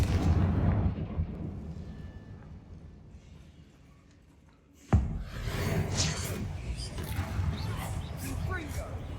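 A Confringo spell in the Hogwarts Legacy video game erupts in one sharp, loud blast partway through, followed by crackling rumble, amid a rumbling game soundscape with voice-like sounds.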